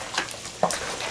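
Venison jerky marinade being stirred and mixed, a brief wet swishing with a small clatter near the end, close and fairly loud with no talking.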